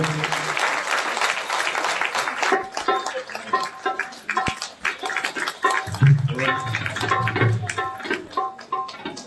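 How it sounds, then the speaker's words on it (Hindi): Audience applause at a Kartik festival at Shri Geeta Bhawan temple: steady, dense clapping fills the whole stretch, loud and close, with a few low hums and murmurs beneath it. "जरा जोर से ताली बजाइए।"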